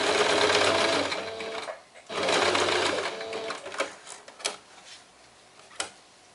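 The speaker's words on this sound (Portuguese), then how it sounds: "Faço a costura para prender e a lateral da minha necessaire já vai ficar pronta." A sewing machine runs in two fast, steady bursts, stitching the side of a fabric toiletry bag with a heart pattern. The bursts are followed by scattered clicks and fabric handling close by.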